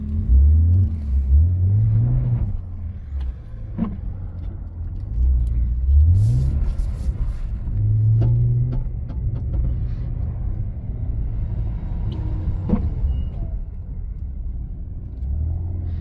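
A BMW drifts on a snowy winter skid pan, its engine revving in repeated rising surges with tyre whir in between, heard from close by with no talking.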